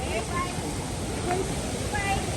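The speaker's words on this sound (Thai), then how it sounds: "น้ำตกตาด" Tad waterfall in Laos pours with a steady, dense roar of falling water that fills the whole moment evenly, close and loud, with a hint of voices under it.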